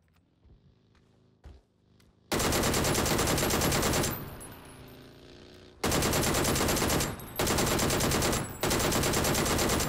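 DP-28 machine gun fired in PUBG, loud bursts of sustained automatic fire in several strings separated by short pauses, after quieter footsteps and rustling at the start.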